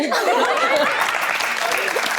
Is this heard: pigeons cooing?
no